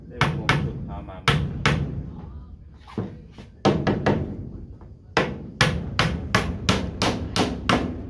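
Nails are driven with a hammer in loud, close, sharp strikes, arriving in quick bursts with short pauses between them, and brief voices occasionally fill the gaps.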